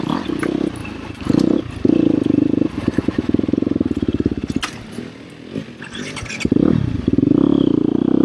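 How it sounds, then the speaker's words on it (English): An ATV rides in third gear at an off-road park, its engine rumbling loud and close with surges and dips as it starts and stops, plus brief clattering over the terrain. "Riding in third gear."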